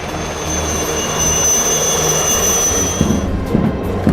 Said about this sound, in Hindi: आसमान से 3 हेलीकॉप्टर्स परेड में शामिल कैडेट्स पे फूल बरसाते हुए गुजरे